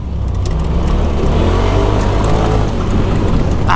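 A Polaris RZR buggy engine drones and revs loudly on a motocross track, a steady close rumble with no break.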